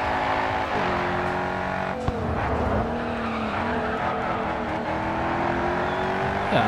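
A Koenigsegg race car roars through a GRID 2 race, its engine droning loud and steady with shifting pitch and bursts of tire squeal, no voices over it.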